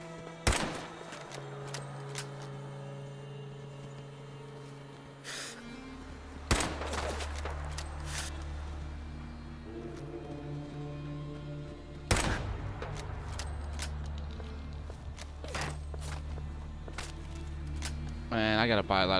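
Rifle fire in Fallout 4: a few sharp, loud shots and sporadic cracks ring out over a sustained low game drone and music, with a voice talking intermittently.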